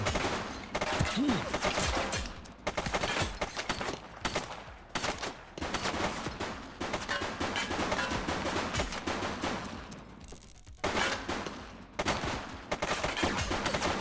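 Rapid bursts of gunfire fill a police shootout in the video game The Precinct, dense overlapping shots repeating throughout with brief gaps, loud and sustained.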